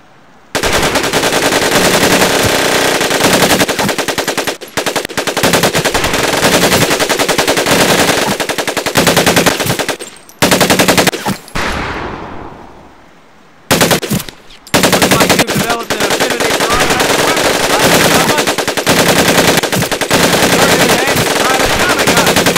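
Short bursts of fully automatic gunfire in the Medal of Honor video game, loud and close, with rapid clattering volleys broken by a few brief pauses.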